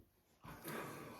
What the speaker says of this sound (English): my dog's attacking her foot.